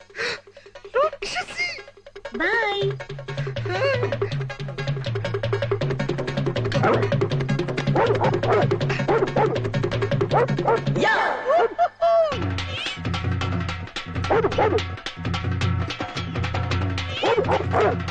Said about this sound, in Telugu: అది మా కుక్క కాదు, మా పక్కింటి వాళ్ళది.